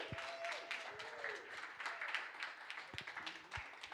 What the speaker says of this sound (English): No, keep clapping, keep clapping,